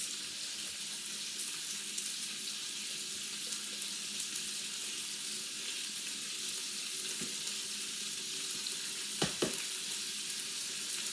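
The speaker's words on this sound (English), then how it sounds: "stir the whole thing up and let it continue to brown and sear" Goulash meat seasoned with paprika browns and sears in a pan, a continuous steady sizzle with a couple of brief stirring knocks near the end, no voices.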